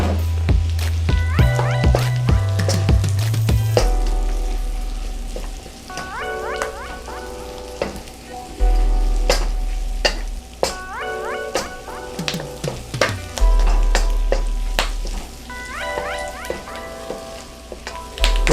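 Garlic and scallions sizzle in butter with a splash of olive oil in a pan, a loud, close crackle broken by scraping stirs and clanks of the utensil against the pan, with no talking.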